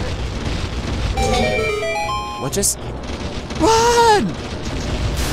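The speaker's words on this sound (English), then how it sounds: "The explosions from their deaths are killing each other!" Explosions of dying Armos enemies in a Legend of Zelda game, set in Dodongo's Cavern. A sharp burst cuts through electronic game tones, with a player's voice speaking over it.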